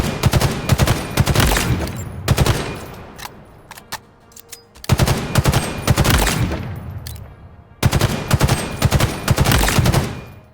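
The BR-75 battle rifle in Halo Infinite fires three loud, close bursts of rapid shots, separated by short pauses with lingering echo, with no talk over them.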